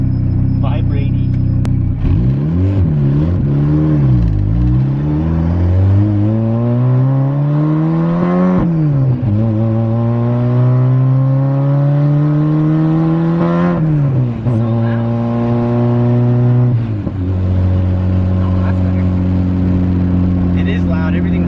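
Loud, vibrating engine of an Acura Integra heard from inside the rattling cabin, revving up and shifting through several gears in a steady climbing pattern, with a continuous roar for the whole stretch.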